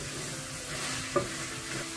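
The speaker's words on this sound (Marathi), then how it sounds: "रेशियाद मसालो घालून बरे भाजया आमी" Meat roasting with recheado masala in a pan for a Goan stew: a steady soft sizzle with a brief stir or scrape near the middle, close and fairly quiet, with no voices.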